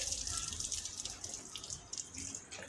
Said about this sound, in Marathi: पाणी मारायचं पूर्णपणे.